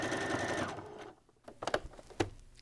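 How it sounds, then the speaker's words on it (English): A sewing machine top stitches around the edge of a cotton burp cloth, first in a steady close whirring run, then stopping and giving a few short stuttering bursts and clicks. "we're going to close up that gap that we left, that we ironed nice and flat, and we're just going to top stitch this all the way"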